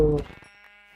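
A sheep in the Minecraft video game gives one clear, loud bleat at the start that quickly fades, followed by a faint tonal hum.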